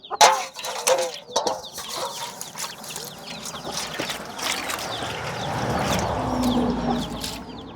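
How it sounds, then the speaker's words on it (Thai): Chickens and ducks on a rural Thai farm cluck and call at close range, with short bursts over a busy background and some rustling. "เป็ดกับไก่เลย"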